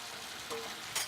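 Food sizzling in a pan after a long cook that has left a thick layer on the bottom, a soft steady hiss with a brief louder crackle near the end, faint and close.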